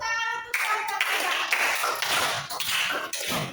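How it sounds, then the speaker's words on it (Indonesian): Classroom applause from a group of sixth-grade pupils, a burst of hand claps lasting a few seconds with brief pauses, fairly close and alone. "Tepuk tangan untuk kelompok tiga."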